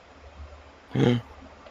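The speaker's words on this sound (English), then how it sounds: "I have to sneeze." A single short sneeze bursts out loudly at close range during a tabletop role-playing game session, lasting about a quarter second against a quiet background.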